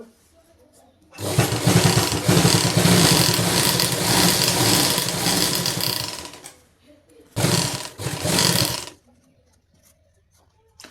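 A sewing machine stitches a zipper chain onto a jacket in two runs, a long rapid buzzing rattle followed by a shorter burst after a brief pause, loud and close, with faint talk around it.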